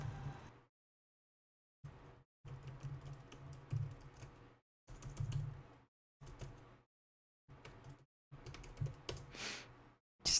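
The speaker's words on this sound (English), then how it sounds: "Just take a little bit to type because I do have a broken keyboard" Clattering keystrokes on a broken computer keyboard, fast bursts of clicks in uneven clusters separated by short pauses, close and fairly quiet.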